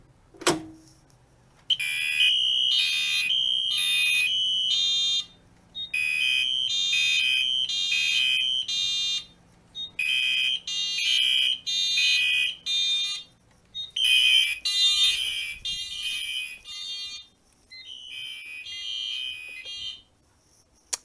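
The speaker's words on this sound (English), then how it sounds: "So now, we're going to pull the ADT pull station." A fire alarm system sounds after an ADT pull station is pulled, a loud electronic horn pattern in repeated rhythmic bursts with brief gaps, preceded by a single click.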